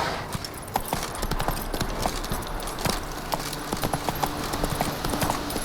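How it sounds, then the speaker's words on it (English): Horse hooves gallop in The Witcher 3: Wild Hunt, a steady, fast clip-clop rhythm of repeated close hoof strikes running the whole way, loud and alone with no talk. "let's get on the horse"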